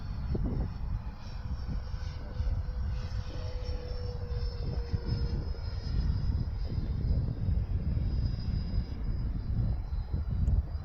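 An FMS Futura 64mm electric ducted-fan RC jet passes through a touch and go, its thin fan whine riding over a rough low rumble of wind and ground noise that swells and fades gently, no one speaking.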